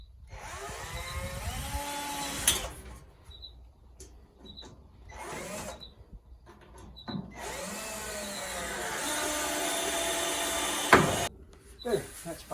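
A power drill drives screws into a cabinet being hung level, its motor whining in several separate bursts with short quiet pauses between them, fairly close and loud.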